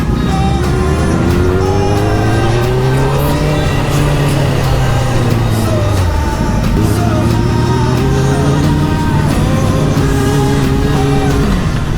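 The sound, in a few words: motorcycle riding off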